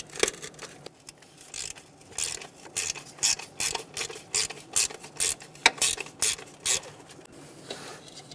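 A hand ratchet loosens the distributor cap bolts on a 1988–1999 GMC K1500 with a 5.7L V8, giving a close, rhythmic series of sharp clicking strokes.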